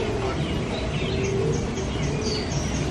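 Many small birds chirp and twitter inside an aviary, a dense, continuous chorus close by that fills the whole stretch.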